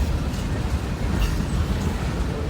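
A short Norfolk Southern manifest freight train passes in Roanoke, Virginia, with a close, loud, continuous rumble of rolling freight cars and faint wheel clatter.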